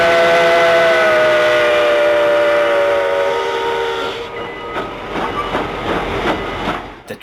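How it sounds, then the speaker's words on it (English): Yreka Western steam locomotive No. 19, a tank car on the point, steams out of Hilltop Siding. A long, loud whistle blast comes first, then rhythmic chuffing and rail rumble as the train gets under way. "the 19 steams out of Hilltop Siding to go switch Standard Oil."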